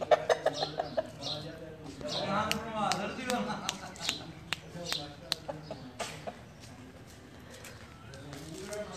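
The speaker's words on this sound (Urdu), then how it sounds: "یہ جی اصیل مرغے بھی ہیں جی رکھے ہوئے" Aseel roosters cluck and call close by amid a busy yard at a pigeon tournament in Pakistan, with sharp pecking taps and someone talking over them throughout.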